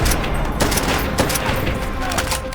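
Dense, sustained gunfire from a Call of Duty: World at War battle, with rapid overlapping shots and bursts running continuously at loud, close range.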